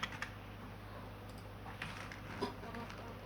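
Faint, soft keyboard typing while an email is composed, a loose run of light key taps over steady low room hum, with no voice.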